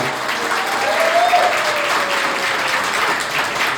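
Wedding guests applaud the bride and groom in a convention hall, a steady, dense clapping that swells slightly in the middle and holds through to the end, with a faint voice briefly underneath.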